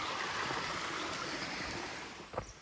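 Steady broadband rush of a stream at a trail water source, constant and moderately quiet, with a brief splash or knock near the end.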